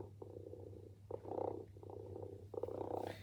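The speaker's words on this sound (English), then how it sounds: "But interestingly, you do still hear her purr." A Joy For All robotic orange tabby cat pet purring, a soft low rhythmic rumble pulsing in short bursts with brief pauses, close and steady, with no voices.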